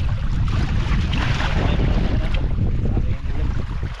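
Strong wind roars over the open sea at a fishing spot, buffeting the microphone in a loud, continuous rush mixed with the wash of waves, with no talking.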